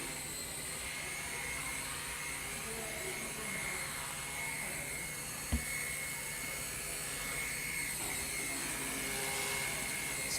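A small Walkera Genius CP flybarless RC helicopter hovering upside down, its rotor and motor giving a steady, even whine throughout, with one brief sharp tick midway and no voices.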